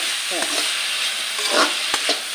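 Elephant foot yam curry sautéing in a pan with onions, a close, loud, continuous sizzle broken by a few scraping stirs of a spoon against the pan.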